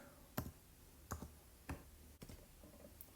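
Sparse, quiet clicks of a computer keyboard or mouse, a handful of isolated taps spaced irregularly over a few seconds, close up with no talking.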